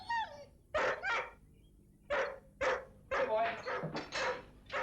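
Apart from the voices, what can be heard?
dog barking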